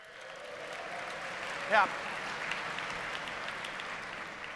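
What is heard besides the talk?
audience applause at a conference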